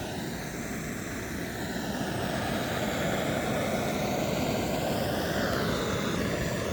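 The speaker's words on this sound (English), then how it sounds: "Sorry about the noise with the stove" A camping stove roars steadily while water heats for coffee at an outdoor stop along Cornwall's clay trails, a loud, constant broadband rush that fills the whole clip with no voices over it.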